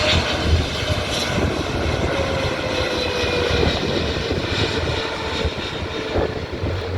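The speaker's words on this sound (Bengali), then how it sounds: "বিমানের ল্যান্ডিংটিও খুব সুন্দর ছিল" An air force aeroplane lands on an airport runway, its engine a steady, loud broadband roar that holds throughout with a faint tonal whine, and no voices.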